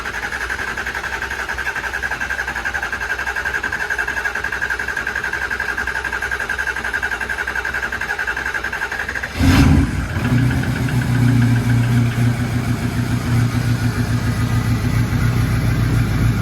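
A diesel engine with a fresh set of injectors and a primed high-pressure oil pump system cranks with a steady mechanical whir, then fires about midway and settles into a loud, rough, rumbling idle close by.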